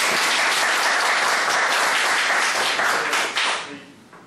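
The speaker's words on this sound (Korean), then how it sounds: "다시 한번 박수 한번 주세요." Audience applause at the close of a lecture at a Dosan Academy special talk, a dense, steady wash of many hands clapping that holds loud and even, then thins and fades out near the end.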